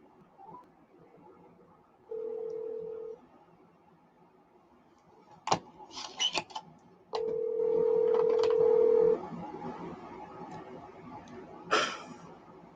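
A landline telephone gives off steady electronic tones with clicks between them as a call is set up for a phone interview, the tones loud and close in a quiet room.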